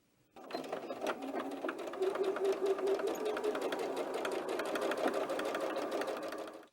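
A sewing machine stitches the corners of a fabric bag in one steady run, a close, even rapid whirring chatter that starts abruptly and stops near the end, with no voices.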